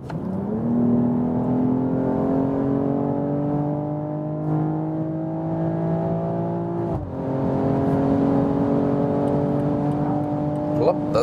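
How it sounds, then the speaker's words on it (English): A BMW sedan in sport mode accelerates hard from 100 to 200 km/h, its engine droning loudly upward in pitch, with one quick gearshift midway before the climbing roar resumes. "That is 100 to 200 kilometers an hour acceleration, so 60 miles to 125 miles acceleration."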